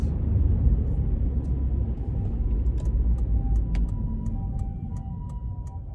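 Honda Accord Euro R with its K20 2.0-litre engine, black with 78,900 km, accelerating hard: a steady low engine drone that stays loud and even throughout, with faint ticking sounds above it and no talking.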